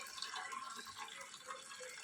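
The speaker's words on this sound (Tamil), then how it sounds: "எல்லா தண்ணியும் வடிச்சிடும்" Water drains steadily out of an air cooler, a continuous trickling and splashing flow close by at low level, without any talk.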